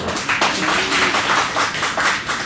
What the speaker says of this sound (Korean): 박헌희 목사님 우리 한번 박수 좀